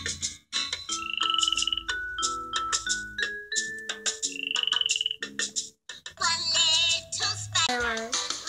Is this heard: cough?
no